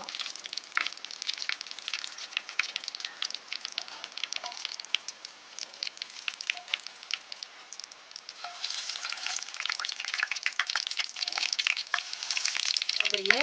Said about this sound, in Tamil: அப்படியே எல்லாத்தையும் போட்டு பொரிக்கலாம்.